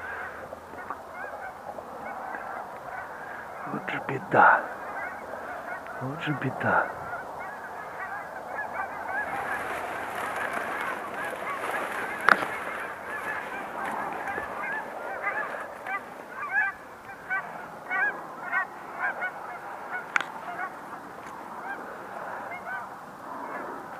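Geese honk on a lake in late October in Canada, with repeated calls from a flock at middle distance. Someone speaks briefly over the honking.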